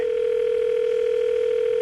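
A steady, unbroken telephone dial tone hums at an even pitch and loudness throughout, clear and close with nothing else present.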